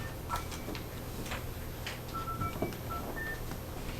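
A telephone is dialed during a 2023 city disaster-response drill to reach the on-site support chief, several faint keypad tones sounding in sequence over a low steady hum.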